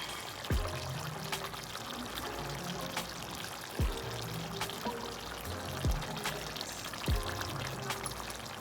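Thick ground masala paste pours into a pot of chicken curry with soft wet plops and gurgles, a few dull thuds falling at uneven intervals over steady background noise.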